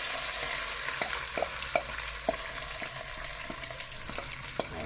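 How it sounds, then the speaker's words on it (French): Sliced fennel and onions fry in butter with a steady close sizzle, broken by occasional soft taps and scrapes of stirring, and no voices over it. "Pendant 1 à 2 minutes, on les laisse revenir dans notre beurre"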